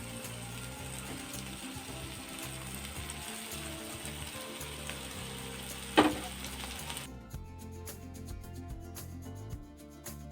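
A boiled potato goes into a pan of paratha filling made with chhana and flattened rice, frying with a steady close sizzle and scraping stirs, then a sharp clack as the sizzle drops away.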